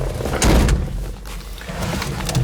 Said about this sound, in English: so many times you have to really slam the doors, and these shut awesome